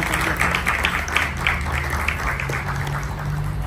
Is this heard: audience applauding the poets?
yes